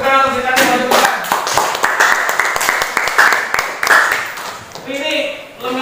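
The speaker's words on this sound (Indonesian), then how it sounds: "Tepuk tangan untuk Sri Kandi" Clapping for a student, Sri Kandi, called to the front of a classroom teaching session, a run of sharp, dense claps over about five seconds with voices talking over them.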